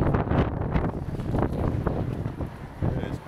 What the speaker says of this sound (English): it's crazy windy and cold